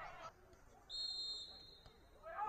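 A referee's whistle sounds once in a sustained, fairly faint shrill tone lasting about a second at a Sammarinese league football match between Fiorentino and Tre Fiori, heard over low crowd and field ambience.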